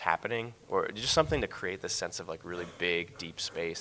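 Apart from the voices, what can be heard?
None of the usual background noises is heard.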